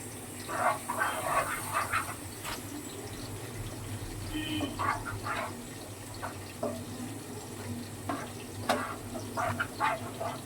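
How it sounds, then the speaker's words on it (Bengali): Plain water poured from a tap while making homemade sweets, a running trickle under scattered clinks and handling noises, fairly quiet and close. "নর্মাল জল দিয়ে দিচ্ছি এটা।"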